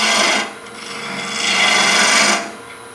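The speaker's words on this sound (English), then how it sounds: "A little spindle gouge just to kind of clean up the little detail in there" A spindle gouge cuts wood on a lathe while turning a candy dish, giving a loud, steady rasping hiss that fades briefly, swells again and then drops away, close up with no talk.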